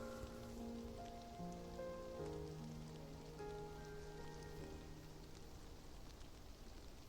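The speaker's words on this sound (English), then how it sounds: "Raindrops pitter-patter against the umbrella" Raindrops patter softly and continuously on an umbrella in the game Love and Deepspace, faint and low beneath quiet sustained musical tones.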